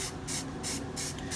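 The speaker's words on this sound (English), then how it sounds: "So we're just going to spray these." Aerosol spray paint hissing onto carved Clarendon sign numbers in close, steady pulses, with brief pauses between passes.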